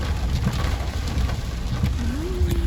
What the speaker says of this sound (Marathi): जोरात पाऊस आहे यार